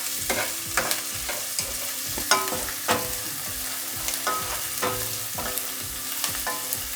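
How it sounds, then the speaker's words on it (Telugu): Chopped onions fry in a pan for a Telangana-style okra gravy, sizzling steadily with repeated clinks and scrapes of a spoon stirring them, close and fairly loud, with no talking. "ఉల్లిపాయలు కొంచెం గోల్డెన్ కలర్ వచ్చే వరకు ఫ్రై చేసుకోవాలి."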